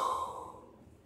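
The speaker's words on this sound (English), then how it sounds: "Here comes a freaking yawn." A single human yawn, close and breathy, with a sighing exhale that fades over about a second.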